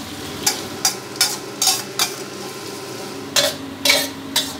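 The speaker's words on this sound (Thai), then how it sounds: "เจียวด้วยไฟกลางค่อยไม่อ่อนนะครับเจียวไปเรื่อยๆให้หอมเจียวเราเหลืองกรอบแบบที่เราต้องการเลยครับ" Shallots frying in oil over medium heat, a steady sizzle punctuated by a series of bright scraping strokes from a utensil against the pan, close and fairly loud.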